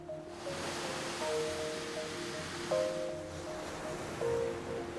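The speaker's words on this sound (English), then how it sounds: "Constructive waves are gentler waves with small spilling breakers that carry sand up to the beach and then deposit it there" Gentle ocean waves break on a Nova Scotia beach, a steady soft wash of surf with faint wind and no voices, accompanied by quiet sustained musical tones.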